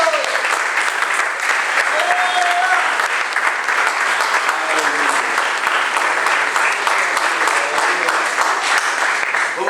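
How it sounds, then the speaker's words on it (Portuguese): A standing church congregation claps for Jesus Christ in sustained, dense applause, loud and even from start to finish, with voices mixed in beneath it. "uma salva de palmas ao Senhor Jesus Cristo"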